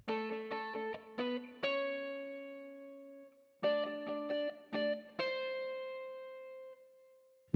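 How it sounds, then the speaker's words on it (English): Clean electric guitar plays a delicate melody in octaves, with plucked notes in short groups and longer ringing tones that decay slowly, heard alone and fairly quiet with a touch of effects. "Then I had again a guitar in octaves."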